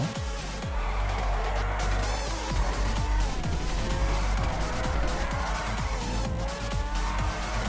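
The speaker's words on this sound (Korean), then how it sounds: "자 이번에는 어, 드리프트 이용해서 코너링 한번 알아보도록 하겠습니다" Supercar (Apollo) sliding through a corner in GTA 5, with a loud sustained engine roar and tire skid noise throughout, continuous and close, no talk.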